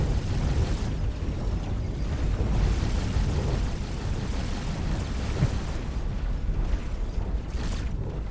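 Explosion in a space video game: a loud, sustained rumbling roar with crackling mechanical texture, dense and continuous throughout, no speech over it.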